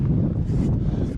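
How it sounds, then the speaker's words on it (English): Strong wind buffeting the microphone outdoors beside a Jeep TJ hardtop, a low rumbling roar that gusts unevenly throughout. "it is hella windy out here"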